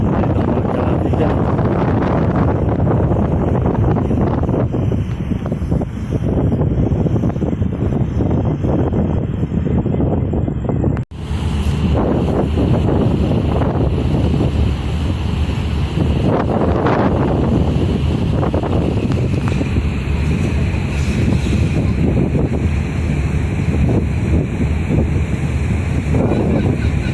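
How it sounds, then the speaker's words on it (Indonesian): Strong southerly wind roars across a ferry dock at night, a loud, steady buffeting rush with heavy microphone wind noise and a low rumble beneath, breaking off once for a split second midway before resuming. "Kencang banget tuh malam ini anginnya dari selatan, kencang buat angin ya, bikin kapal nggak bisa keluar dari dermaga."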